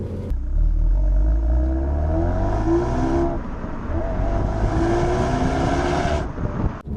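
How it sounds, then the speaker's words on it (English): A 2018 Renault Megane RS engine revs hard and close, pitch climbing through a gear change, then climbing again before cutting off abruptly at the end. "I really wasn't expecting this car to sound this good."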